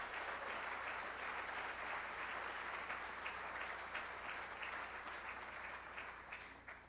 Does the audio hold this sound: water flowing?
no